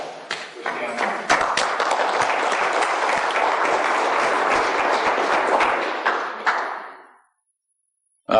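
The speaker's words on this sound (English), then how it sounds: "Please let's give a round of applause for Stanley." An audience at a 1997 talk at the Denver Marriott applauds an inventor in a steady, full round of clapping that swells, holds for several seconds and fades out.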